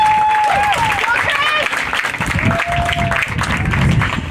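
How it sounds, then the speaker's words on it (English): An audience at a high school percussion contest applauds the Chapin High School Percussion Ensemble, with dense, sustained clapping, cheers and a few whistles under an announcer speaking over a PA. "One more round of applause, ladies and gentlemen, the Chapin High School Percussion Ensemble."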